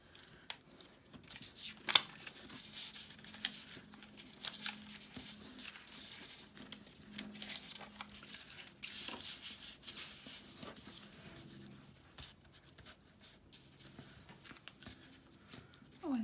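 Scissors snipping through a sheet of watercolor card to cut it in half, a series of faint crisp cuts with light paper rustling at a quiet tabletop.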